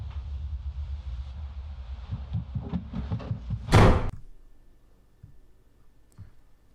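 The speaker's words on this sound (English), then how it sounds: "is actually a sound effect, from Paranormal Activity, when the door slams" A door slam from the horror film Paranormal Activity: low rumbling build-up, then one loud, sharp slam that decays into a quiet, hollow room tone with faint thuds.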